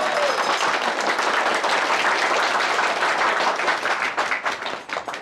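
An audience at a company gathering claps in a dense, continuous burst that thins out and tapers off near the end.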